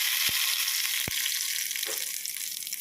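Hot tempering poured into carrot chutney, a bright, hissing sizzle that fills the moment, with a couple of low thuds at the start, close and steady before gradually easing.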